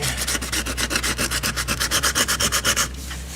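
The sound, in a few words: sanding car body filler with sandpaper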